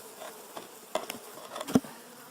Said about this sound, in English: They are just full of bees. Absolutely full of bees.